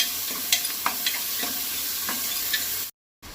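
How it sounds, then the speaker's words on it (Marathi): Onions sizzle and fry in ghee and oil for a Goan mutton masala, a steady bright crackle with occasional stirring scrapes and clicks, close and uninterrupted until a sudden cut to silence near the end. "दोन कांदे घेतल्या. ते मोठेच चिरपाक जाय, आडवे चिरपाक जाय आनी ते फोडणेक घातल्या"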